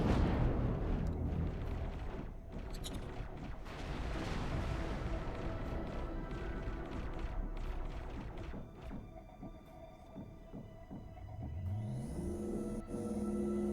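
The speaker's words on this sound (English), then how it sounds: "Explosion imminent." A large explosion in the space game EVE Online erupts as a deep, sustained rumble with crackling bursts, loud and continuous throughout, thinning toward the end into tonal game sounds.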